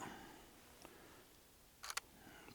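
A camera shutter fires while photographing an oak tree in Mark Ash Wood in the New Forest: a faint, quick double click near the end, set against quiet woodland ambience.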